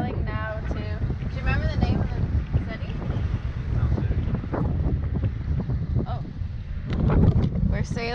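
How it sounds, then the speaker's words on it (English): A sailboat under sail off Sardinia, with steady wind buffeting the microphone and water rushing along the hull, while a voice talks over the noise. "yeah, we are sailing."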